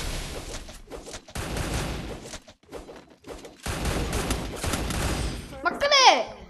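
Bursts of gunfire from the Free Fire video game crackle in rapid clusters, with short gaps between volleys and a bright whooshing effect near the end, under game audio and no clear speech.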